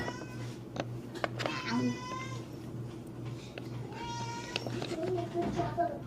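A human voice imitates a cat for toy-pet play, giving a couple of drawn-out, wavering meows over a steady low hum, fairly close and clear, with brief spoken sounds in between.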